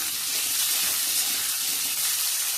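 Potatoes frying in a pan, a steady broadband hiss of oil sizzling close by, even and continuous throughout with no voices.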